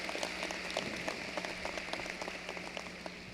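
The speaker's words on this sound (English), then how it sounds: "A round of applause for those individuals," Graduation-ceremony audience claps at a distance, a faint, thin and continuous scatter of applause over a low room hum.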